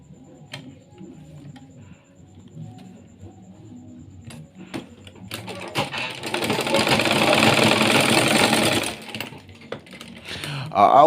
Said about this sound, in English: A manual machine like this is okay to control speed